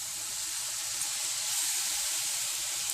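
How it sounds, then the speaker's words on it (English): Lemon juice hits a hot pan and sizzles in a steady, close, bright hiss that carries evenly through the moment without any talking. "I always add in a little bit more lemon juice, and it's going to sizzle a bit because the pan's hot"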